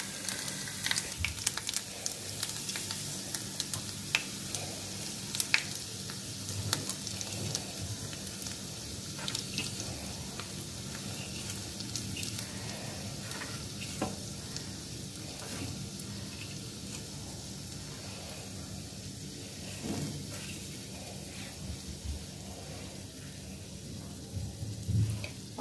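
Ground spice powders (chilli, coriander and cumin) fry in oil for a samosa filling, giving a soft, continuous sizzle with scattered small crackles and occasional stirring scrapes, fairly quiet throughout.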